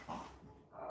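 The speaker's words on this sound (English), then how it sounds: "My dogs." Dogs growling and grumbling softly indoors in a home, a faint, low rumble that rises twice within a brief moment, with no talking.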